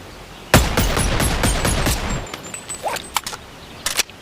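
Pistol gunshots in the VR game Bonelab: a rapid burst of loud, close shots starting abruptly, followed by a few scattered sharper cracks and clicks with no talking.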